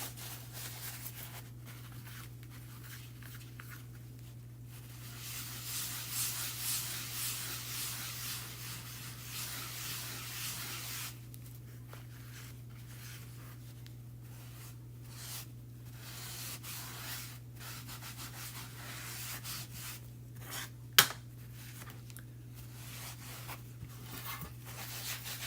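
Wax being rubbed on with a paper towel, a steady soft scrubbing and swishing in repeated strokes, close and quiet over a constant low hum, with pauses and one sharp tap near the end.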